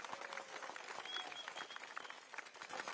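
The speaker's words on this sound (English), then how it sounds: "Can we have another round of applause for the speakers that came up on stage just now?" Crowd applause at an outdoor political election rally in Singapore, a continuous even patter of many people clapping, distant and fairly faint, with no individual claps standing out.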